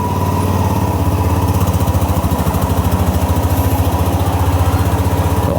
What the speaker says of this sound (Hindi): आरपीएम देखो फिर से अब बढ़ गया है